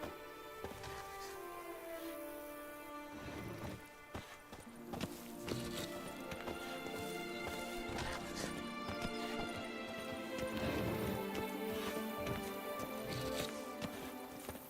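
Geralt's horse Roach clip-clops along in The Witcher 3, steady hoofbeats sitting under a dense bed of music and game ambience at moderate distance, with no break across the stretch.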